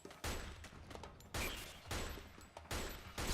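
Gunfire bursts in the Metal Gear Online shooter, three or four sharp volleys spaced about a second apart, fairly quiet and with no talk over them.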